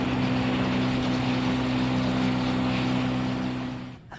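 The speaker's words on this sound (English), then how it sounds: "The whale hunters are on the big boat, and the protesters are on the little boat." A motorboat engine hums steadily over water, loud and droning, then fades and cuts off abruptly near the end.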